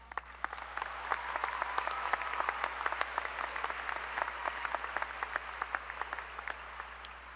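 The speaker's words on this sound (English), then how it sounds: "class of 2022, give yourselves a big round of applause" Graduating students of the Interlake High School class of 2022 applaud themselves at their graduation ceremony, a steady, dense wash of clapping that holds for several seconds over a low hum, heard from a slight distance.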